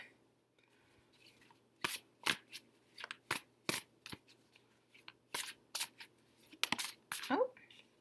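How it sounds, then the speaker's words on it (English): A tarot deck is shuffled in a series of sharp riffling bursts, roughly a dozen quick snaps and fluttering slides spaced unevenly over a quiet room, close and crisp. "If you're not interested in watching me shuffle"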